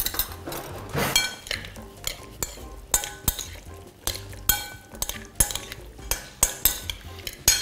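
Spoon stirring vegetables and sauce in a bowl, with repeated clinks and scrapes against the dish in an irregular rhythm, close and fairly loud, no talking.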